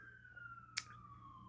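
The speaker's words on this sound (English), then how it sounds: "excuse the sirens" A faint siren wails in the distance as a single steady, slowly falling tone, with a brief sharp snap near the middle.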